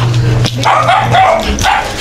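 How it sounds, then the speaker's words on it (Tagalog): Several dogs bark and yip in short overlapping bursts, fairly close, over a low background hum. "Daming aso."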